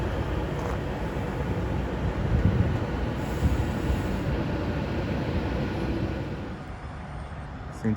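A Class 390 train rumbles into Milton Keynes Central with a broad, steady roar of wheels on rail that eases off near the end, with no talk over it.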